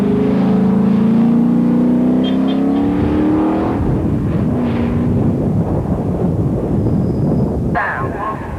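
TVR Tuscan Challenge race cars at Mondello Park storm past with loud rising engine roar, pitch climbing as they accelerate, then a dense rough blare and wind buffeting on the microphone; a voice speaks briefly over the din.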